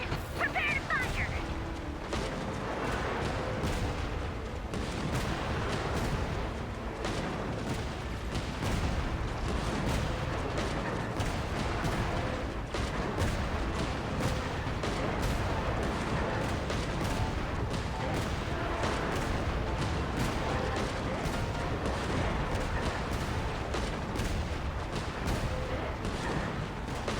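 Artillery in Genshin Impact fires repeatedly through a long, busy stretch of booms, crashes and mechanical clatter, with dense overlapping blasts at a steady moderate level.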